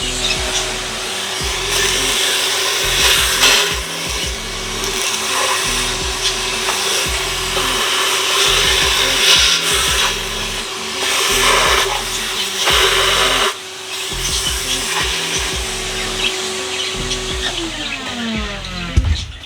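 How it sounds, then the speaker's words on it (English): A vacuum cleaner hoovers out an aviary nest box, a loud continuous motor whine with bumping and rattling of the nozzle against wood, pitch dropping as it shuts off near the end. "give it a quick hoover."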